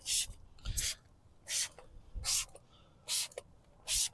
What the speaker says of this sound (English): We're going to go ahead and spray CarPro Wheel X on the surface.